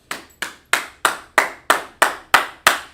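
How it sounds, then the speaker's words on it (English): Nine sharp, evenly spaced claps ring out one after another at a steady rhythm, close and fairly loud, with no talking. "Let's clap it up for that sister, guys."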